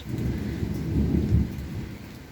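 Deep, rolling thunder rumbles over a steady hiss of falling rain in Osmaniye, Turkey, with no voices.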